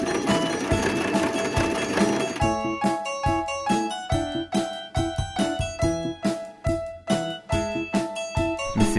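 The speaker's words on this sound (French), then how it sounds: "Je vais coudre un renforcement, un peu un effet un petit peu matelassé" Sewing machine stitching a quilted-effect reinforcement on fabric, first a dense continuous run, then a series of short rhythmic bursts of stitching with brief pauses between, close and clear with no talk.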